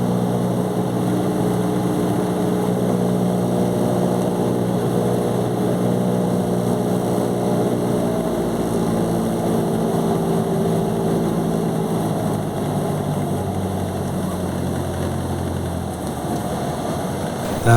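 A small propeller airplane landing on a grass runway, its engine producing a loud, steady drone close by that holds evenly throughout and drops slightly in pitch toward the end.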